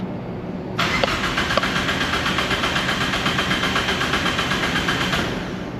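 The Deep Orange 3 car's engine cranks on its first start attempt in over ten years, a loud, close, rhythmic starter churn that keeps going for several seconds without catching.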